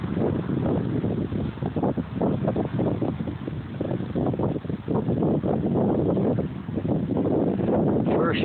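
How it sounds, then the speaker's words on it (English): Strong gusting wind roars continuously across the microphone outdoors near a guyed tower, a loud broadband rush with repeated buffeting surges throughout. "So windy I can't stand up."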